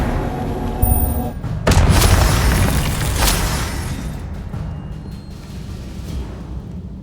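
An Expelliarmus spell fires in Hogwarts Legacy with a sharp crack, then a heavy, booming blast that rumbles and fades over several seconds. Softer game sounds play underneath.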